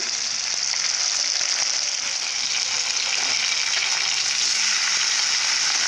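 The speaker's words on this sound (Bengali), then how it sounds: "ফাঁকা তেলে মাছগুলো ভালো করে ভেজে নেব" Fish fry in shallow hot oil with a steady, close, dense sizzle and crackle that runs unbroken throughout, without speech.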